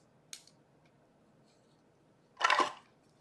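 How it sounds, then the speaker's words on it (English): Early Espresso cardstock card base, 4 1/4 by 11 inches, folded along its score line at 5 1/2 inches: a faint papery tick, then a louder brief rustling crease near the close, with no talk. "So let's go ahead and fold on that score line."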